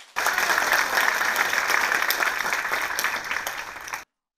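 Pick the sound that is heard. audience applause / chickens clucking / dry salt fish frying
audience applause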